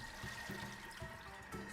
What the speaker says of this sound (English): So let's drain the water out using the simmering basket.